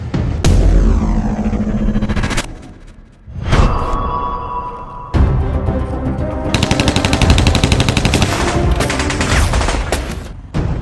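Heavy gunfire from an action film: loud, rapid machine-gun bursts and volleys of shots, broken by a brief lull and a whooshing hit before the firing resumes in dense, sustained rattling.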